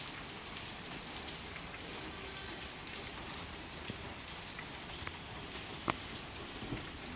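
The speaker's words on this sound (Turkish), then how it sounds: "Yağmur hızını kesti." Steady, soft rainfall patters continuously near a pigeon loft, with a few sharper drops or taps standing out near the end; no voices.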